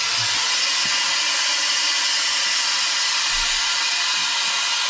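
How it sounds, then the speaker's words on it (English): Air hissing steadily into a home freeze dryer as its vacuum is relieved after drying milk, a loud, constant broadband rush filling the whole stretch without a break. "Once the vacuum is relieved, the door will pop right open."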